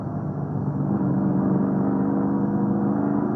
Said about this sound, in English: Listening to see if he keeps the car running, and he does.